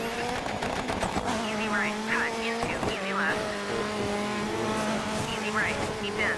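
Rally car in the DiRT racing game on a Norway rally stage, with a loud revving engine and repeated tire squeals and skids, plus brief impact bursts, continuous throughout.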